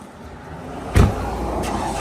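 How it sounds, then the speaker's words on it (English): Ford Explorer on a car dealer's lot, a steady engine and road-noise hum as the car is moved, with a louder thump-like burst near the middle and another at the end. "boy Jeff's moving the car."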